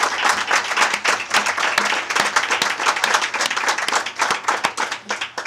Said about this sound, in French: ça mérite certainement une belle main d'applaudissements